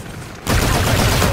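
A Volk energized AK fires a sustained automatic burst in Call of Duty Infinite Warfare. A brief quiet lead-in is followed by loud, dense, rapid shots that continue to the end.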